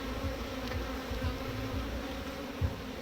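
Honey bees swarm around an open hive whose comb holds paperbark honey, a steady close buzzing drone with a few louder passes near the ear over the whole stretch.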